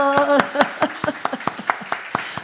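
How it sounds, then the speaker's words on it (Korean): A church congregation claps to welcome a visiting pastor's daughter-in-law during a Sunday service, a run of sharp separate claps over a sustained voice or tone at the start. "박수로 환영해 주세요"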